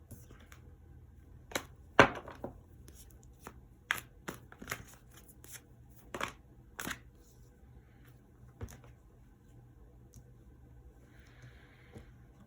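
Tarot cards shuffled and laid down by hand during a reading: sparse, sharp papery slaps and riffles arrive in an irregular rhythm, close and fairly quiet over a faint hum.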